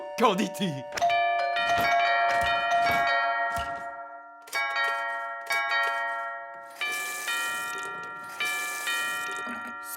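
Bright door chimes ring out several times, each tone sustained and ringing, with a voice speaking briefly between the chimes.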